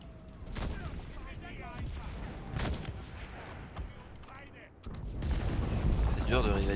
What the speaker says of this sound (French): on commence à sniper.